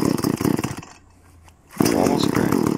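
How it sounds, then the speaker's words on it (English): A chainsaw roars loudly at close range, cuts out briefly into near silence, then fires back up and runs at a steady high buzz. "Start your chainsaw."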